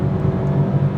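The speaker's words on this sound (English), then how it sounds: "Just holding it wide open throttle throughout a corner" A car engine holds wide open throttle through a corner, a loud, sustained, steady drone heard from inside the cabin.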